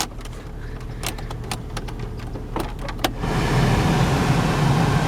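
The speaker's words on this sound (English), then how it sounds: "I'm gonna turn the heat on." The heater fan of an old Jeep comes on at its single full speed: a few clicks and switch sounds, then a steady, loud blowing rush that takes over and holds inside the cabin.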